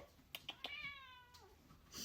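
A pet cat meows indoors, a few short chirping calls followed by one drawn-out meow, faint and close, with no talking.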